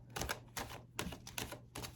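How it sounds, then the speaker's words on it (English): Large tarot cards being shuffled sideways with a waterfall shuffle, giving repeated soft rapid clicking flutters in a steady rhythm, close and fairly quiet. "you could shuffle them sideways or hold them sideways and do the waterfall"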